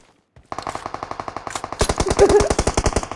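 Automatic gunfire in PUBG Mobile: after a brief silence, a loud, rapid burst of shots rattles in an even rhythm and grows heavier and denser partway through, with no talking over it.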